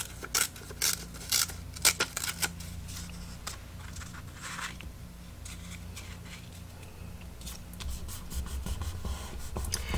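A page from an old recipe book is torn for a collage, a series of quick crisp paper rips and rustles near the start, then quieter handling and scraping.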